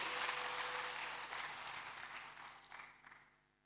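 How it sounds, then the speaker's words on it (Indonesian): Church congregation applauding during a sermon, a broad wash of clapping that is fairly loud at first and gradually thins and fades toward the end. "Berikan tepuk tangan dulu bagi Tuhan."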